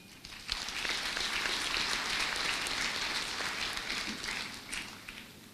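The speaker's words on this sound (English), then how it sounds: "I want to give a round of applause to all the APU staff for making that happen" A hall audience claps for university staff at a graduation ceremony, a dense, even wash of applause that swells quickly and holds at a steady level before tapering slightly near the end.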